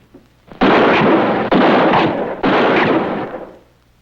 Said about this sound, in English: Despite the terrific impact of the bullets, the surface did not crack or chip.